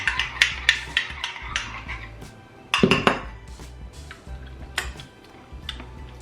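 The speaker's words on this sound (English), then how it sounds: "Let's stir that up nicely, get everything all blended and making friends in the bowl" A utensil clinks and scrapes against a bowl while leftover steak and egg ingredients are stirred together for a breakfast quesadilla, with repeated sharp metallic taps and a louder clatter partway through, close and without talk.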